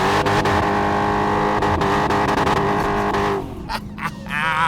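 A 2015 Camaro Z28 or Challenger Hellcat muscle car does a tire burnout: a loud, close, sustained engine roar with screeching rubber, dipping briefly near the end before surging again.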